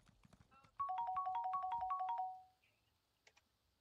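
Horse hooves clip-clopping in the Elder Scrolls Online video game, a quick even run of about a dozen bright, ringing beats lasting under two seconds, loud and close, then a few faint clicks.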